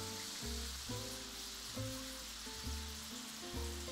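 Tomato puree hisses and sizzles in a hot pan with rabbit pieces, Maltese style, a steady close frying crackle with soft rhythmic bubbling and no voices.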